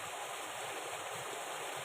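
Krong Kaew waterfall in Khao Yai National Park rushes in a continuous, even roar of falling water, steady and fairly close, with no voices.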